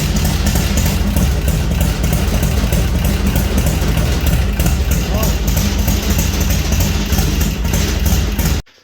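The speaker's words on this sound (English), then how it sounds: "as you heard, the engine works" A Hammer 1275 car engine, started with the choke out, idles steadily and loudly with a rough, continuous rumble, close by, then cuts off abruptly at the end.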